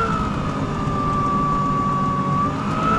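A Toro PowerMax e26 battery-powered electric snow blower runs steadily, set two notches below full throttle with eco mode off, giving a loud continuous whirring drone with a high motor whine.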